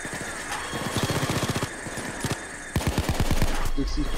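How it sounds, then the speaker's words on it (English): A sentry gun in the Payday 2 heist game fires in rapid, evenly spaced automatic bursts. Two runs of steady, repeating shots play over busy background noise. "Yo, sentry gun, do something."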